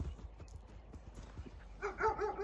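A horse's hooves clop in a steady, evenly spaced rhythm of soft, close thuds as it walks, and a brief voice comes in near the end.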